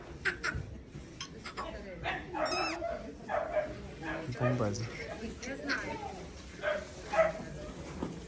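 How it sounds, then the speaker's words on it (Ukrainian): Puppies for sale at the Kurenivka animal market yip, whimper and bark in repeated short, high bursts close by, mixed with people talking throughout. "Такі гарні собачки."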